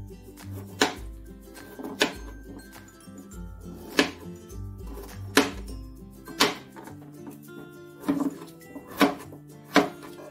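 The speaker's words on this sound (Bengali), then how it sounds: "এবার আমি ওলকপিগুলোকে ছোট ছোট করে আমি কেটে নেব।" A knife chops kohlrabi into small cubes on a board, giving sharp, distinct thunks at a steady rhythm of about one every second, close and clear over quiet background music.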